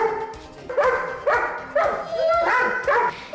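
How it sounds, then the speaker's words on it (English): Mickey, a pet Chihuahua, lets out a run of sharp, high yapping barks in quick succession, close and loud indoors. "his barking just drives us nuts"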